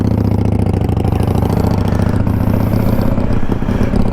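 A 2021 Honda Africa Twin DCT motorcycle engine idles close by, with a steady, even low rumble held through the whole stretch and no talk over it.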